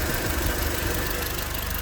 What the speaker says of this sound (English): Engine is ticking over nicely.